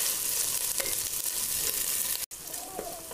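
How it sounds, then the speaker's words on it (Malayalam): Ginger and garlic sizzle in hot oil in a pan for a Kerala-style beef curry, a loud, dense, continuous frying hiss up close with a brief dropout near the end and no talking. "ഇഞ്ചി വെളുത്തുള്ളി ഇട്ടതിൻ്റെ സൗണ്ടാണ് ഈ കേൾക്കുന്നത്"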